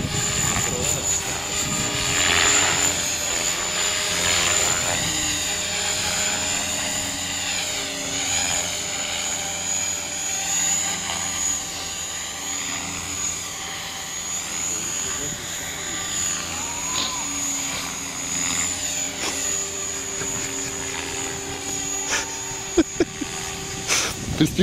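A T-Rex 500 radio-controlled model helicopter flying close by, a steady high whining rotor and motor buzz with shifting pitch as it moves about, continuous and fairly loud throughout.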